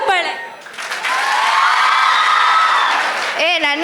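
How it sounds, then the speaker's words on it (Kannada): A student audience at a college event in Karkala claps and cheers in a loud sustained burst, with a voice speaking over the start and end. "ಹೊಡಿರೋ ಚಪ್ಪಾಳೆ"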